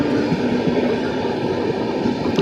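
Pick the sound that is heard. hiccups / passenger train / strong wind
passenger train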